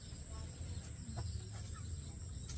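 Chickens cluck faintly on a farm in Laguna province, soft scattered calls over a steady background of insects and ambient noise.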